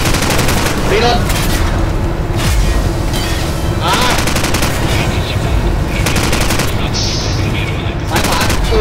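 Rapid automatic gunfire and shotgun blasts from Call of Duty 4 fill a loud, dense battle soundscape, with bursts of shots layered over constant explosive rumble throughout.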